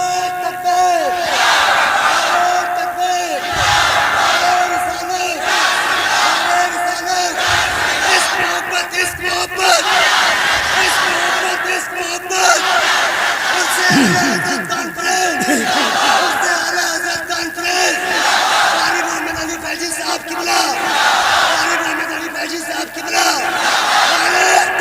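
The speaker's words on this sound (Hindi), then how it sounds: "वो इस महफिल में जरा नारे तकबीर और रिसालत बुलंद करे" A large crowd at a naat gathering raises the Nara-e-Takbir slogan, loud, roaring call-and-response chants that surge in repeated waves, with shouting voices filling the hall throughout.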